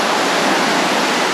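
Wind and surf at Manatona Beach in western Florida on a busy day, a steady loud broadband roar of breaking waves and gusting wind filling the whole moment with no distinct individual breaks.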